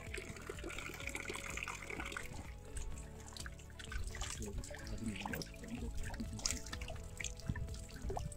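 Water from the Acı Su bitter spring in Islahiye, Gaziantep trickles and splashes continuously at close range, a steady gurgling flow without speech.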